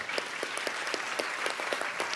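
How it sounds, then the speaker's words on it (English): Steady applause from a youth climate summit audience at the UN, a dense crackle of many hands clapping continuously at moderate volume with no voices over it. "One more round of applause for the Summer of Solutions."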